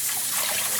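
Running water splashes over cherry-dyed yarn as it is rinsed under a tap, a brief, steady, close trickling wash with no voices.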